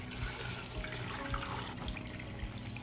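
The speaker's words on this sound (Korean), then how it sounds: "여기에다가 이제 물을 넣고" Tap water runs steadily into a soup pot holding dashi and chunky green onion for broth, a continuous close splashing stream without talk.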